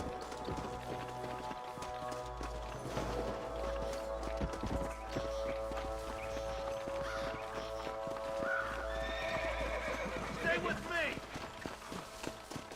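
Horse whinnies and clopping hooves in Red Dead Redemption, mixed with game music and voices talking over the top, fairly steady and moderately loud throughout.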